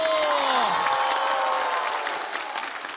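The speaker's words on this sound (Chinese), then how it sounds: "掌声再给肉食动物" A studio audience claps for a comedy duo at a stand-up comedy show, a dense, loud wash of applause that tapers slightly at the end, with a voice speaking briefly at the start.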